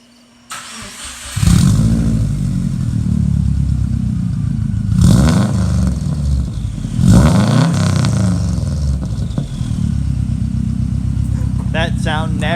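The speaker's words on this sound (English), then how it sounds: "you guys can hear what a Stage 2 WRX sounds like" A Stage 2 Subaru WRX fires up with a sharp burst, then settles into a loud, throaty idle that is interrupted by several revving blips. A voice is briefly heard at the very end.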